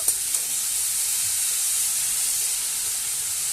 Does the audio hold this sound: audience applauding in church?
no